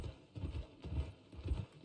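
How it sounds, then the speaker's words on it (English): A horse's hooves clip-clop in the video game Red Dead Redemption during online roleplay: a steady rhythmic trot of repeated thudding hoofbeats, fairly close and clear, with no talk. "That person who's fishing is just now on a horse following us."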